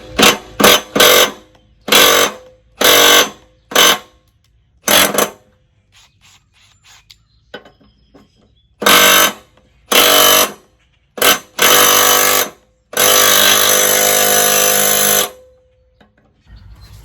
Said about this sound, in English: I thought I could get away with just using the impact, not strong enough.